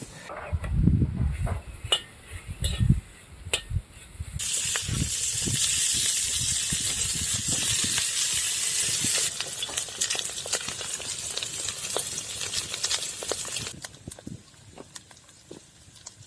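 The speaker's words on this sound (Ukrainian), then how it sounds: "а поки вижарюється смалець" Steady broadband sizzle of pork fat rendering in a pan, starting after a few seconds of stirring clatter and continuing loudly before dropping off near the end.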